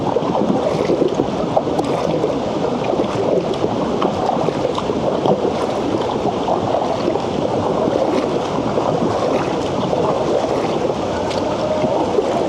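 A boat carries passengers up the river in Laguna toward Pagsanjan Falls, with a steady, loud rush of water and motion noise that holds unbroken throughout and no talking.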